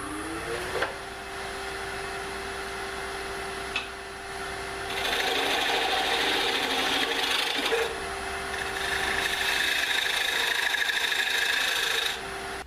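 A wood lathe turning a bowl, with a tool cutting away the small spigot at the bowl's centre, producing a steady abrasive scraping and whirring that swells into two longer sustained cutting passes, close and fairly loud, with no speech.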